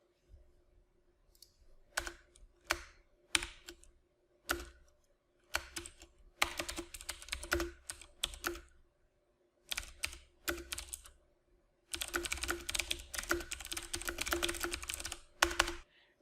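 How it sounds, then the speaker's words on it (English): Typing on a computer keyboard while entering R code in a console, quick bursts of clicking keystrokes separated by short pauses, close and fairly quiet. "Now I'm going to type in the object name, followed by a set of brackets."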